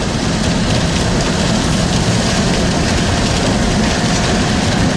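Rain drumming on a car while driving on a highway, a dense steady roar of road noise and patter filling the whole stretch, loud and unbroken.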